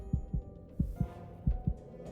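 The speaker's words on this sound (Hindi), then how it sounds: "दिल जोर जोर से धड़कने लगा।" A heartbeat sound effect in a Hindi horror story: three deep double thumps at an even, steady pace, loud and close, with nothing else behind them.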